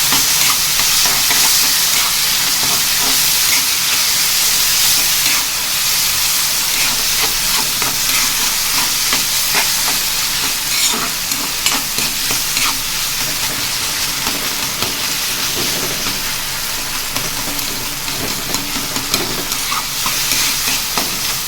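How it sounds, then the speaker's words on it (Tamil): Drumstick thokku is stirred in a hot pan with turmeric and chili powder, a loud continuous sizzle and fry with faint scraping strokes running throughout, close up with no voices. "மஞ்சள் தூள், மிளகாத்தூள் போட்டு நல்லா மிக்ஸ் பண்ணிக்கலாம்."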